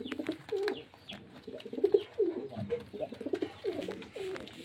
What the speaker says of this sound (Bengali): এই একখানা নর পায়রা দেখতে পাচ্ছেন